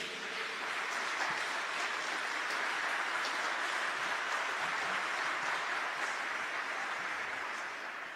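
A church congregation claps in steady, dense applause, loud and continuous, fading slightly at the end.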